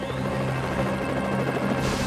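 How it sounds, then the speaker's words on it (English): Rescue helicopter hovering low over a stormy sea near Sydney–Hobart waters, a loud, steady rotor and turbine drone filling the whole stretch without pause. "The helicopter is now low on fuel."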